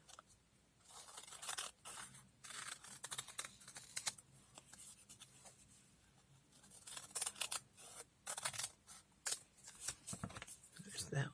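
Scissors snip through paper for feather pens in a quiet room, a scattered series of faint, close, crisp cuts with soft rustling between them.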